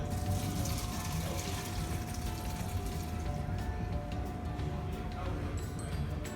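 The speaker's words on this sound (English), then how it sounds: "the strainer back in there, and you're gonna wanna strain out that water" Steady rushing water pours and drains continuously through a strainer, a dense wet splashing at close range with no pauses.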